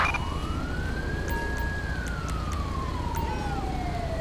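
A siren wails in Grand Theft Auto V, one long rising then slowly falling tone that sweeps steadily, heard alone over a dense hum of game engine and traffic noise.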